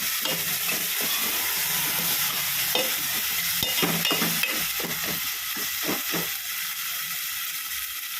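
Steady sizzling of paste frying in hot oil in a pan for eggplant curry, with repeated scraping and stirring strokes cutting through the continuous hiss.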